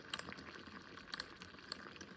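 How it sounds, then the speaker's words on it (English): Water in a lab vessel nears a rolling boil, giving a faint bubbling fizz with scattered small pops and rattles, steady and close, with no talk. "Let's get a rolling boil on this thing."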